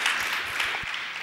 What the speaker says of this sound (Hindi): तालियों का योगदान दे दीजिए हमारे।